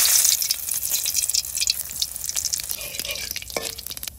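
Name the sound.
dried red chillies frying in hot oil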